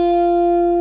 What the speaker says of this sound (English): we're now going to drive in this distortion unit. We're just going to use this soft saturation option